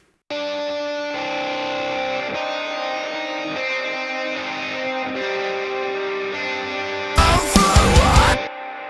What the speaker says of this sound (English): quickly solo and see what these ambient guitar tones sound like